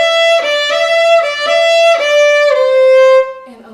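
A brief bowed fiddle phrase from the third part of the old-time tune Old Melinda, several short repeated strokes on one held pitch closing with a lower note, played alone and close.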